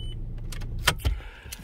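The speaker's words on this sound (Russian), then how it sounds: "Если мы вставляем ключ в замок зажигания, проворачиваем, машина заводится." Audi A4 B7 turned over with a new chip ignition key: a short, close mechanical crank and a low engine catch, with a couple of brief clicks around it.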